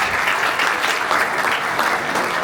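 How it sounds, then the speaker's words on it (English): Audience at a photography conference claps together in sustained applause that stays loud and dense from start to finish, with no voices standing out. "Give yourselves a round of applause."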